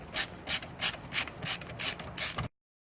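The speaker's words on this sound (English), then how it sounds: "Remove the 1, 2, 3, 4 screws that are securing the head unit in." A tool ratchets in seven short, evenly spaced bursts of clicking, close up, as screws securing a car stereo head unit are backed out; then silence.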